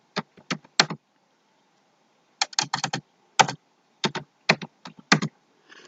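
Rapid clicking keystrokes on a computer keyboard while typing in MS Word, close and crisp, in quick bursts separated by short pauses, with no talking.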